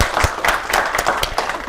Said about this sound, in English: Let's start the day with a clap,